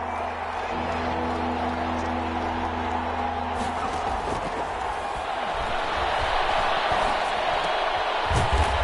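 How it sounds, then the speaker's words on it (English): Crowd noise filling a stadium during an NFL game between the Rams and Vikings, a steady roaring wash that swells slightly near the end, with commentary faintly audible. "the crowd getting into it as we come up on a big 3rd down"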